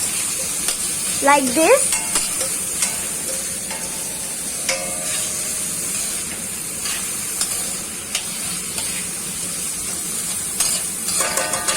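Yellow capsicum fries in a pan for Alfredo Maggi, a steady hiss of sizzling oil with scattered light utensil clicks and stirring, and a brief spoken remark early on.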